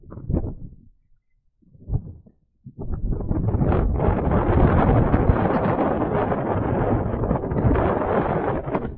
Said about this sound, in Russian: Ветер также раздувает.